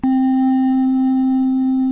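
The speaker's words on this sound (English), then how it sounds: "We're pitching this sound down 2 octaves." A synth tone, pitched down two octaves, starts abruptly and then holds as a single loud, steady, pure-sounding low note with faint overtones, unchanging and alone for two seconds.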